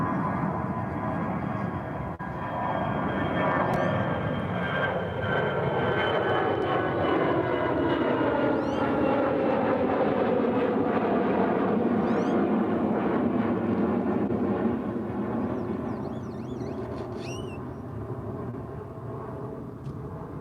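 An American Airlines jet departing from runway 36 left at Dallas Fort Worth, a loud sustained engine roar with a sweeping pitch shift as it passes, then easing slightly toward the end.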